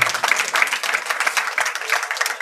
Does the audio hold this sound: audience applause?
yes